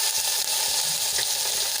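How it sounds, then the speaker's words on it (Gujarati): Asafoetida and ginger-garlic-chilli paste sizzle in hot oil for a Gujarati kadhi, a loud, steady, close frying hiss that holds throughout with no voices. "હવે એને આપણે વાર માટે તેલમાં સાંતળી લઈશું"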